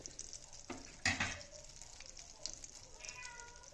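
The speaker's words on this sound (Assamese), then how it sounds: "বাটাৰ দিয়ে মানে ভাজি লম বাটাৰখিনি অলপমান গৰম হ'ব দিম" Butter heating in a pan on a stove: a faint, soft sizzle with light crackles and one brief clatter near the start, quiet and close.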